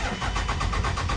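A 1999 Dodge Ram 2500 with a 24-valve Cummins diesel cranks and starts, its loud engine churning in a steady pulsing rhythm close by.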